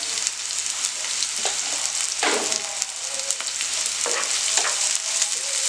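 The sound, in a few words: kale sautéing in pan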